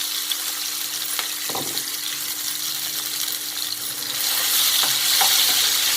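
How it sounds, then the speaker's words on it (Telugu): Masala and onion paste frying in hot oil in a pan, a steady close sizzle with occasional stirring scrapes, growing a little louder toward the end, with no talking. "మనం ముందుగా గ్రైండ్ చేసి పెట్టుకున్న మిశ్రమాన్ని, ఉల్లి మిశ్రమాన్ని అంతా చక్కగా ఇందులో వేసుకొని ఫ్రై చేసుకోండి"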